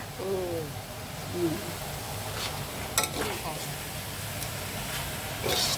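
Minced pork and eggplant stir-fry in a pan with a steady sizzle, occasional scraping stirs and a clink of utensils, while someone talks over the cooking.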